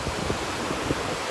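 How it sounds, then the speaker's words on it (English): Ocean surf washing up onto a sandy beach, a steady broadband rush with soft swells and constant wind buffeting the microphone, no voices. "Even when the waves come up here on the sand"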